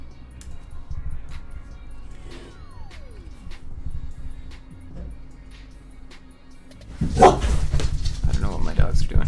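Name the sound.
dogs barking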